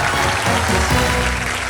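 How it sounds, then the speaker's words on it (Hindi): A studio audience on a Hindi Wheel of Fortune game show applauds loudly and without a break for the whole short stretch, a dense, close wash of clapping. "जोरदार तालियां।"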